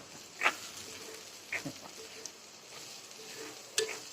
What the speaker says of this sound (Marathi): रस्सा चांगला व्हावा म्हणून थोडं बेसन घेते मी भाजून ह्याच्यामध्ये छान भाजतो ह्याच्यामध्ये बेसन